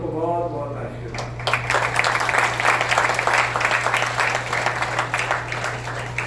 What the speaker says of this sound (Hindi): एक बार और जोरदार तालियों से महाराज जी के लिए।